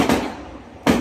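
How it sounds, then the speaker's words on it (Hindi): Two sharp firecracker bangs about a second apart during Diwali, booming with a short rumbling tail, fairly loud and somewhat distant. "और पीछे से पटाखों की आवाज़ बहुत ज़्यादा आ रही होगी आपको,"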